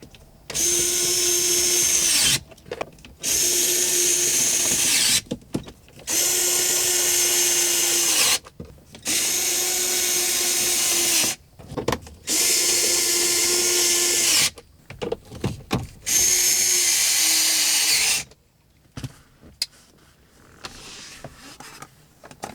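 A power drill drives the airbag retaining screws in a 2004 Honda Element, with six loud, close whirring bursts separated by short pauses and a few faint clicks at the end.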